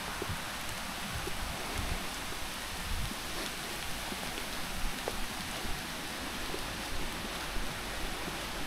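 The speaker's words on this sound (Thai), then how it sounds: "ฝนยังตกอยู่เลยค่ะ" Rain falling steadily outdoors by a garden at home, a faint continuous hiss with soft scattered patter and no voices.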